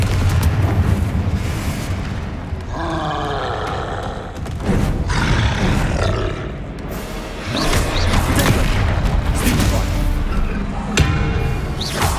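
Confringo spell explosions in the Hogwarts Legacy video game come through as loud, repeated booming blasts and thuds over busy combat noise and whooshing effects.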